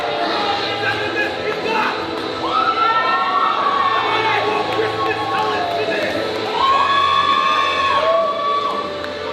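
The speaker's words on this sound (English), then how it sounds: "Crowd are electric for the Eternal, the Paragon, Edward Dusk." A wrestling show crowd cheers and shouts loudly, with high children's screams rising in waves over a steady roar, while a commentator talks over the noise.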